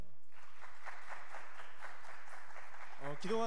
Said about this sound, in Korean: 박수 한번 칠게요.